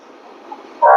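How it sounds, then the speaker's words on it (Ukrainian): A Lviv tram runs along the tracks on Horodotska Street in the distance, a steady low rumble that swells abruptly louder in the final moment. "Трамвайні колії, там вдалині львівський трамвай по вулиці Городоцькій"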